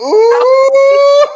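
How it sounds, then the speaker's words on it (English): A dog howls in one long, loud, rising wail with a couple of short yelping breaks, close to the listener with no talk over it. "Nah, that's my dog, y'all."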